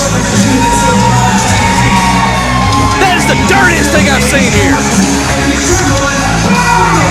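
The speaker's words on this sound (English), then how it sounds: "And the people have do nothing but cheer." Wrestling fans in an arena crowd cheer, whoop and yell loudly and continuously throughout, with a commentator talking over the noise.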